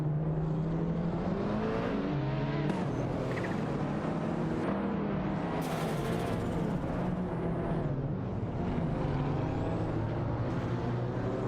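Race cars in a racing video game, a 93 Supra and a 94 Golf among them, roaring continuously with layered engine drones and revving shifts. The sound stays loud and dense throughout, with no talk.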